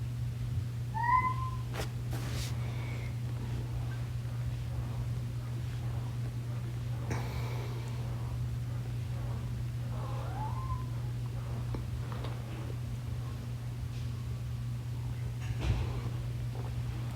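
A house cat meows twice, once early and once much later, each short and fairly clear, against a constant low hum and faint room noise on a quiet morning indoors.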